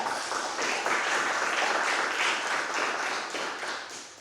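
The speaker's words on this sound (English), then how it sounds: "Another round of applause for Sheila, please." Listeners at a poetry reading in the Everyone has a Voice series keep applauding, a full, even roar of clapping hands at moderate loudness that swells slightly midway and tapers gently at the close.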